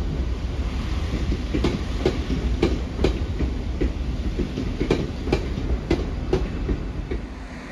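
A London Northwestern Railway train pulling out of Crewe station gives a steady rumble with repeated sharp wheel clacks spaced irregularly across the whole stretch, fairly loud and close, with no voices.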